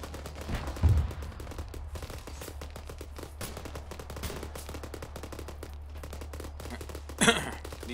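Rapid automatic gunfire from a soldier walking and firing in ArmA 3 keeps up a steady rattling stream, with a couple of louder bursts standing out near the start and end.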